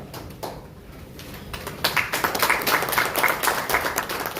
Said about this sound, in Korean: 언론인분들이 박수가 적은 것 같아요